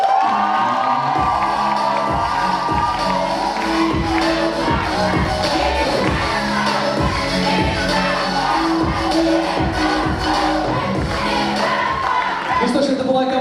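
Loud crowd cheering, whooping and shouting at a student KVN comedy show at Bashkir State University, with rhythmic clapping beats running steadily throughout the whole stretch.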